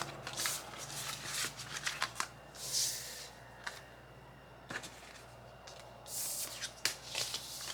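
Tarot cards are shuffled by hand in quick riffling bursts and soft slides, with crisp snaps and pauses in between, close up in a quiet room.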